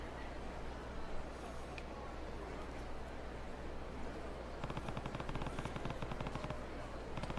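Distant gunfire in the video game Yakuza Kiwami 2: a rapid run of faint, machine-gun-like shots rattles through the second half over a steady background wash.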